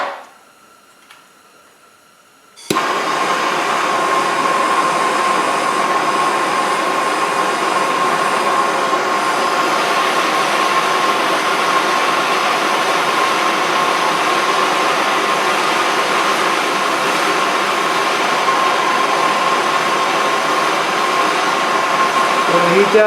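A blacksmith's forge heats horseshoe nails to red heat, a loud steady blower roar that switches on abruptly after a quiet moment and runs unbroken.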